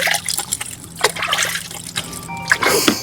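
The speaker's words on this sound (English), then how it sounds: "Now we get to wash our hands in a live well." Hands being washed in water from a boat's live well, with close trickling and splashing, intermittent pours and dribbles over a faint hum.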